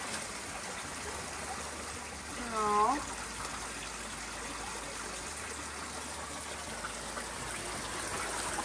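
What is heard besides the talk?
water leaking from a homemade table drum screen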